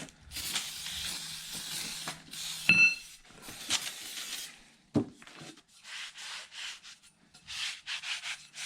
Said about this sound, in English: all the items we gotta paint with some alcohol spray